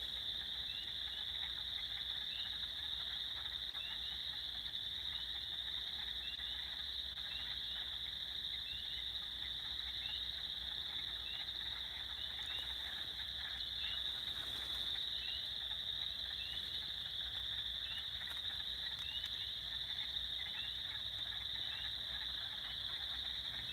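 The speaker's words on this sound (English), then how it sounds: "And them frogs are going nuts out there." Frogs and insects calling outside on a full-moon night, a steady dense chorus of trilling and croaking that stays even and faint in the distance throughout, with no voices.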